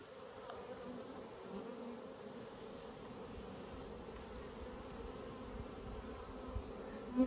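Honeybees in an open beehive give a steady, soft, continuous buzzing drone that persists throughout without speech, with a slight swell near the end.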